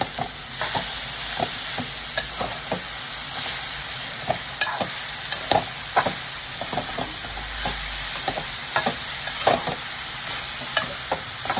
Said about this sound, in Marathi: आता हे छान असं आपल्याला मिक्स करून घ्यायचंय